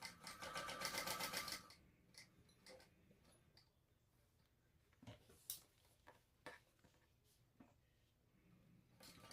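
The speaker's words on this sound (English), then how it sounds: "And then sew up the other side." A sewing machine runs in a steady fast burst while stitching up the side of a crossbody bag, followed by quieter intermittent clicks and handling of fabric.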